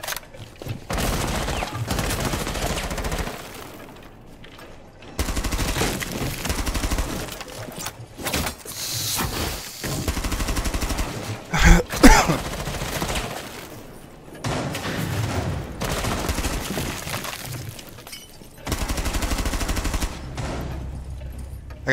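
Loud, sustained gunfire fills a competitive shooter match, with bursts of automatic fire, heavy thumps and one sharp blast in the middle, dense and continuous with brief pauses.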